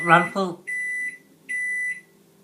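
A voice speaks briefly, then a microwave oven gives two long, clear electronic beeps separated by a short pause.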